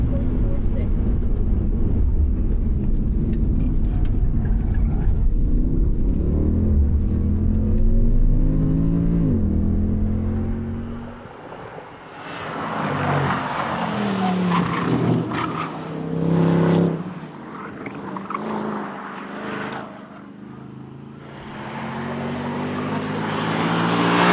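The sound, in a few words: Mercedes-AMG Black Series car with automatic transmission driving on track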